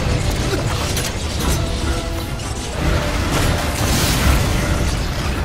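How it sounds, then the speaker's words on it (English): Rocket launcher rounds from the Lost Planet 2 video game hitting a creature: a dense, continuous barrage of loud blasts and mechanical clatter with no break. "Getting some nice rocket shots on his face."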